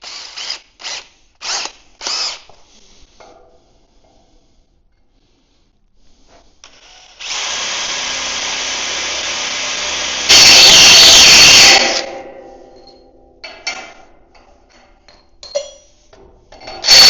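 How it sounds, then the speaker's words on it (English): A power drill bores a hole for a trailer mount, whining steadily for several seconds before rising to a harsher, louder grind as the bit bites through, then stopping, with short tool clicks around it. "So we'll drill a hole through there and through there"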